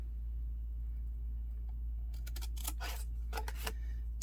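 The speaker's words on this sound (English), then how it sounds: "I'm going to cut along here to remove some of the bulk" Scissors snip through chipboard for a handmade craft album, a cluster of crisp, close cuts in the second half after a quiet stretch of low hum.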